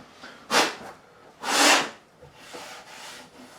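Sandpaper rubs across the wooden neck of a Warwick Corvette Double Buck bass in two strong strokes, then several fainter passes, close and dry with no talking.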